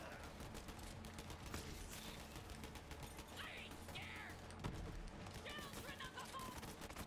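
Gunfire in a video game, rapid clattering bursts of shots with mechanical ratcheting, steady and moderately faint across the span.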